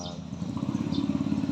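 Motorcycle engine hums in Manila traffic, a moderate low pulsing drone with faint chirps over it.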